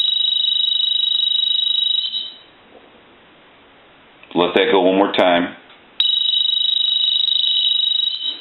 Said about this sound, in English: It's got a very high piercing piezo buzzer in it.